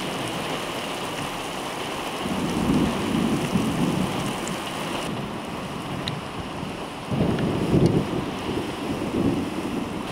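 A squall line thunderstorm over the Southern Tablelands of New South Wales, Australia, brings steady heavy rain with low rolling thunder swelling twice, loud and close, with no talking.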